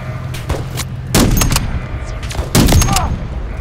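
Sentry gun fire in Call of Duty Modern Warfare 3, sharp repeated shots with two louder bursts rising mid-clip and near the end, close and punchy over game noise.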